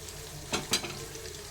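Fenugreek leaves roasting in a pan for a North Karnataka-style palya, with two brief bursts of stirring and frying sizzle over a quiet background.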